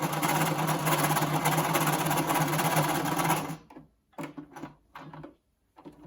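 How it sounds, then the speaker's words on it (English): A sewing machine stitches elastic into the corner of a cloth face mask, running loud and steady for over three seconds, then stopping and giving a few short bursts of stitching separated by pauses. "you'll sew it into this corner"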